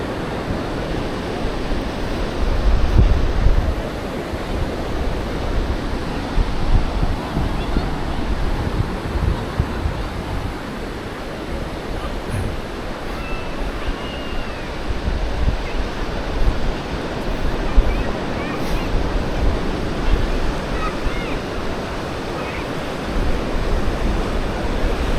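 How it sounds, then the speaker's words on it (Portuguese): Strong wind gusts across the beach at Praia do Santinho, buffeting the microphone in low rumbling bursts over the steady wash of breaking surf, with no voices. "Dá-lhe vento."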